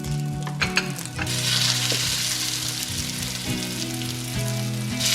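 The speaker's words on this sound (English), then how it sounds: "You can also fry them all at the same time." Krumpantoč, a Slovenian potato pancake, frying loudly in a pan with oil, a bright continuous crackling sizzle close up, broken by a few knocks near the start.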